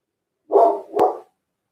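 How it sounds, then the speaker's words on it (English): A single dog gives two quick, loud barks in close succession, close to the listener and against otherwise total silence. "He might be just barking just to bark."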